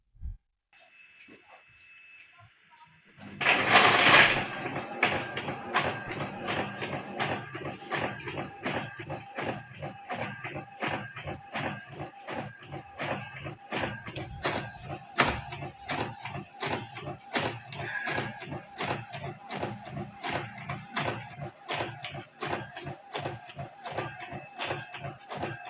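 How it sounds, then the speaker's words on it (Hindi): A printer, set off by its print button, prints an e-stamp paper: a short startup whir, then a rapid steady train of mechanical ticks and clicks as the sheet feeds through, running close by with no voices. "अब देखिए प्रिंटर से जो है ये स्टाम्प पेपर प्रिंट होगा"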